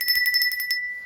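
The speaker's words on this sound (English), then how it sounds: "Courier and Ives Copenhagen Bell" A small Currier and Ives Copenhagen bell rings with rapid repeated strikes, bright sustained metallic tones shimmering close by, then fading into a lingering ring.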